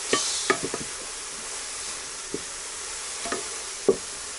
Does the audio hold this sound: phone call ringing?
no